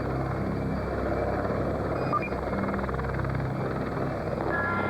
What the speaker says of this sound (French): dernier né de la redoutable famille des hélicoptères de combat, le Tigre.